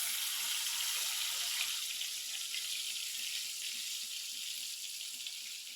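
Fish frying in a pan in a village home kitchen, a steady bright sizzle holding evenly throughout at close range with no voices.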